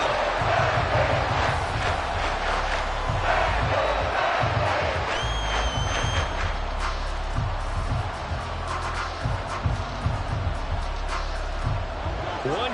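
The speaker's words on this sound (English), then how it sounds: "How about some applause for the defense there?" Stadium crowd at a football game cheering the defense after it forces a throw into coverage and sets up a fourth down, a loud sustained roar with whoops and shouts while an announcer talks over it.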